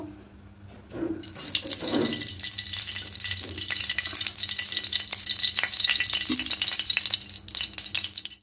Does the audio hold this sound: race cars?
no